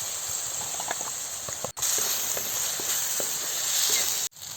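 Ginger and garlic sauté in hot oil for a Kongu-style chicken kulambu, a steady close sizzle and hiss with faint crackles that carries on without a break.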